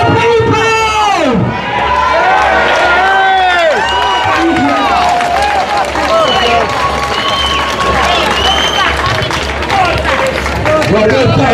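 Rally crowd outside an immigration hotel in London cheering, whistling and applauding loudly and continuously, with shouts and whoops rising over a dense, steady roar of voices.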